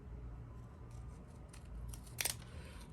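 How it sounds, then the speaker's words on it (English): Scissors snipping paper while making folded rosettes, a few faint quiet cuts followed by one crisp, louder snip near the end over a soft room hum. "let me get my scissors and show you"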